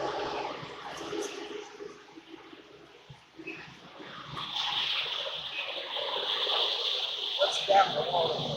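Water draining out of an old well pipe during removal, a steady rushing and splashing outflow that swells louder in the second half, with faint handling knocks.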